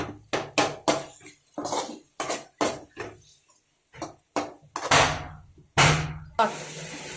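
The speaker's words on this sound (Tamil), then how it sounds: "ஒரு முறை நல்லா வந்து நம்ம கலக்கி விட்டுக்கலாம்." Spoon scraping and knocking around a cooking pan while masala is stirred: a run of sharp metallic clinks and scrapes in an uneven rhythm, close and clear, with a short pause partway through.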